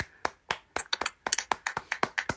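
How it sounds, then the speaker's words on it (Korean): A small congregation at a Sunday church sermon claps by hand: a loose scatter of individual, sharp claps from a few people, irregular at first and then quicker and denser, close and fairly loud, with no talk over them. "박수 한번 보시죠"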